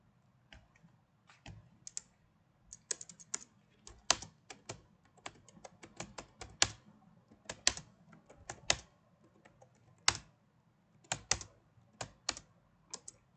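Keys clatter on a computer keyboard in irregular bursts of quick, close clicks with short pauses between them, typing text into a simple calculator project being built in Scratch.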